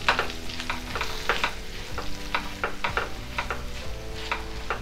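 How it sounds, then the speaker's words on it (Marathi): A spoon stirs a raw mango pickle mixture with red chili powder in a pan, making repeated rhythmic scraping and wet sizzling strokes, close and clear with no talk. "सगळं व्यवस्थित मिक्स करून घेऊया।"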